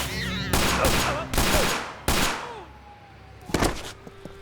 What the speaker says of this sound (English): Why'd you shoot me, man?